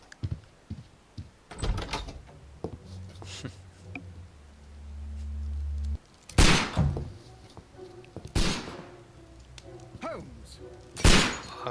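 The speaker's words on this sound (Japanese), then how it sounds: "銃声。" Gunshots ring out in a Sherlock Holmes game scene, a few sharp loud cracks spaced several seconds apart amid music and other thumps, with a low droning sound between them.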